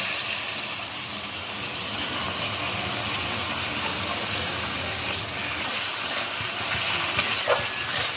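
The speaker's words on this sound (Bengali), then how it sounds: "এবার পোস্তটা দিয়ে ভালো করে কষাতে হবে মশলাটাকে" Spice paste with poppy seeds sautéing in a pan, a steady loud sizzle with scraping stirring throughout, no voices.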